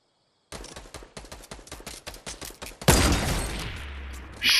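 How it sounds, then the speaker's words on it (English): Rapid burst of launcher fire in a video game, about a dozen sharp evenly spaced shots in quick succession, followed by a loud booming blast with a long rumbling tail and a bright noise at the very end. "Grenade launcher straight in."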